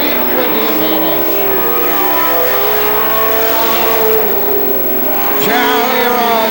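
Several pro stock race cars roar around an oval at night, engines blaring loud and continuous with shifting pitch as they battle for position, while an announcer talks over the din.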